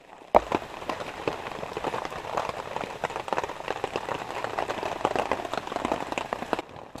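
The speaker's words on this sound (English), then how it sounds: "It's still raining." Steady rain patters on a tent in the wilderness while camping on a canoe trip, a dense, continuous spatter of close drops with no voices.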